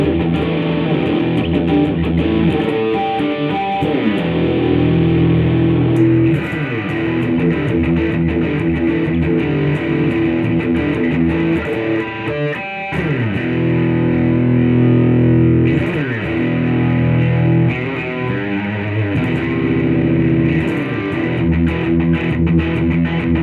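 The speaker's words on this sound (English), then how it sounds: "On the bridge, humbucker, kicking in the distortion." A heavily distorted electric guitar on the bridge humbucker, played through a WGS Green Beret 10 or Celestion Vintage 10 speaker, plays chunky, sustained riffs and chords, loud and continuous, with no voices.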